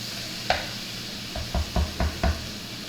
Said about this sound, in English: Stir that all up in there